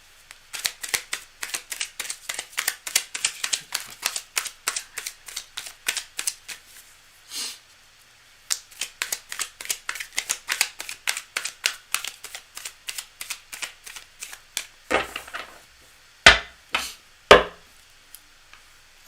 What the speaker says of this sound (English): Now, I already did shuffle the cards a fair bit.